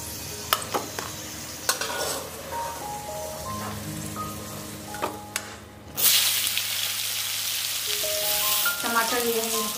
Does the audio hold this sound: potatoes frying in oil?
yes